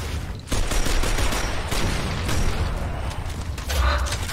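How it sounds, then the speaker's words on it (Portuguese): Weapon fire in the Gears of War: Ultimate Edition video game, a dense run of gunshots and bursts starting after a brief quiet moment and continuing loudly throughout. "Atirei, sou bom, atirei."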